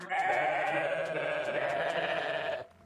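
A goat in the WorldBox sandbox game lets out one long, loud bleat lasting over two seconds, alone and without any talk, then it cuts off abruptly.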